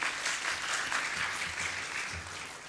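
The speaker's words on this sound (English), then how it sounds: "a big round of applause" Attendees at an academic lecture on anti-cancer pharmacogenomics give a round of applause for a speaker, an even, fairly distant patter of clapping that continues throughout.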